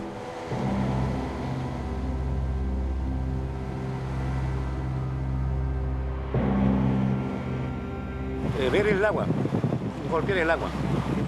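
Motorboat engine pushing through fast, dangerous river currents on a remote river, a steady low drone with wind and water rush throughout, growing louder and rougher toward the end.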